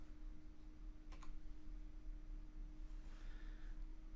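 Brief bursts of clicking on a computer keyboard, a couple of quick taps followed by a short run of keystrokes, faint and close in a quiet room.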